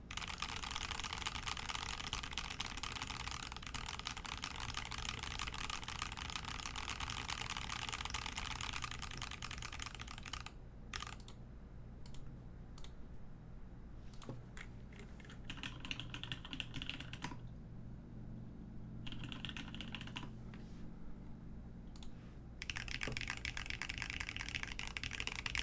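Rapid typing on a QXP mechanical keyboard fitted with 67g Zealios V2 tactile switches, a dense stream of close keystrokes that thins into scattered presses and pauses midway before resuming at full pace.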